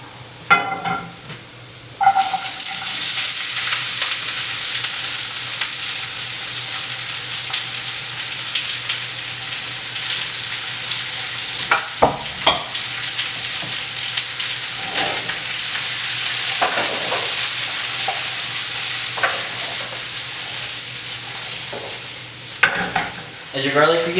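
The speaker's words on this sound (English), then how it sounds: "Go ahead and throw your vegetables into the oiled pan." Vegetables and garlic frying in a pan of butter and oil, a loud steady sizzle lasting over twenty seconds, broken by occasional stirring scrapes and clinks close by.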